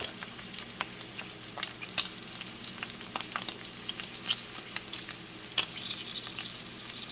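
Beef steak frying in a pan gives a continuous close sizzle with scattered sharp crackles and spits of oil, steady in level with no talking.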